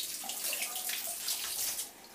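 Cold tap water runs steadily over boiled chowmein noodles in a kitchen sink, a continuous splashing gush that holds close and fairly loud for the whole stretch, with no voices.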